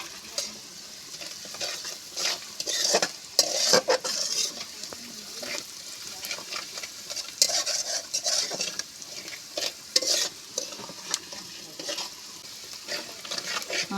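Spice paste with ground cumin being stir-fried in a pan for a Bengali lentil and jute-leaf dish, a steady close sizzle broken by repeated scraping and clinking of a spatula against the metal pan, with no talking.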